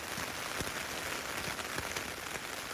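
Steady rain patters on a camping tent on a rainy morning, dense and even, with occasional heavier drops tapping close by.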